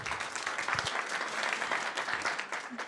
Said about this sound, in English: give us a big round of applause for the class of 2019 in SPPS